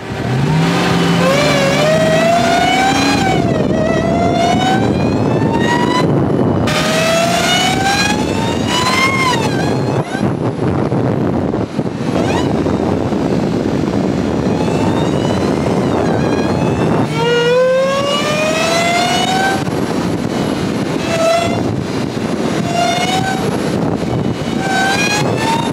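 Dodge Hellcat with a loud supercharger revving and accelerating hard, a rising whine climbing through repeated gear pulls, close and powerful and continuous for the whole stretch, with no talk.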